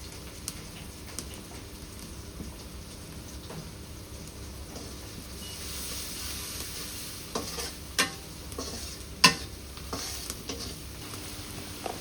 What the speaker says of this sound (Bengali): হলুদের গুঁড়া দিলাম,